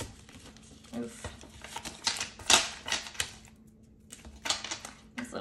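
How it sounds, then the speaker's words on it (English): Small tarot cards, hard to shuffle, being shuffled by hand, giving a series of quiet, uneven riffling and flicking bursts close to the listener, with brief soft clatters and pauses in between. "These little baby cards are hard to shuffle."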